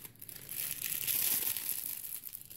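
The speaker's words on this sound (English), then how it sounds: "I'm sorry about the rustling." Soft, close crinkling and rustling of packaging as ice yarn is pulled out, a quiet continuous crackle lasting a couple of seconds.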